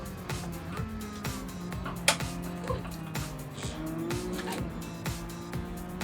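A BMW Z4 in Gran Turismo 7 accelerates with a droning engine note that rises repeatedly through gear changes, with faint tire noise in the background.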